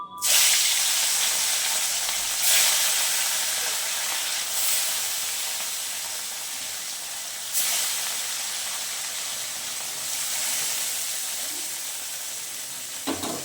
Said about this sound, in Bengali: তেল গরম হয়ে গেছে, এইবারে আমি একে একে পার্শে মাছগুলো দিয়ে দেবো।